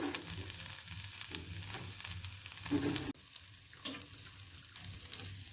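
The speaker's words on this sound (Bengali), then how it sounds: "এরপর আমি এর মধ্যে দিয়ে দেবো ম্যারিনেট করা চিকেনগুলো। চিকেনগুলো ভালো করে ফ্রাই করে নেব।" Marinated chicken fries in a pan with a continuous crackling sizzle, punctuated by repeated scraping stirs and a sudden drop in intensity partway through.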